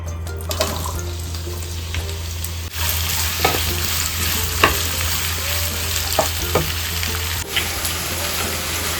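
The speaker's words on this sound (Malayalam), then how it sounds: "അപ്പോൾ ഉള്ളി വഴഞ്ചോണ്ടിരിക്കുകയാണ്." Onions sauté in a pan for a Kerala-style chicken mappas. A continuous close sizzle is broken by scraping stirs and a few clinks of utensils, over a low kitchen hum.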